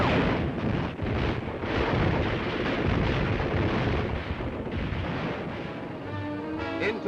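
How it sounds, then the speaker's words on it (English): Guns and tanks fire in a 1941 WWII battle, a dense, loud, continuous roar of booming blasts and rumbling detonations that swells and eases without pause, with no voices over it. "Here they fight it out gun to gun and tank to tank."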